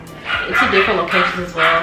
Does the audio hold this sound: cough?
no